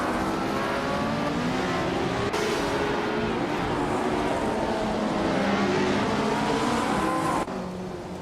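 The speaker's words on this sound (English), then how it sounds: "Hingo McCringleberry is racing a 1961 Cooper T55." A 1961 Cooper T55 race car in a racing video game, its engine droning steadily at high revs with shifting pitch as it runs in a pack, continuous and loud with brief cuts in tone.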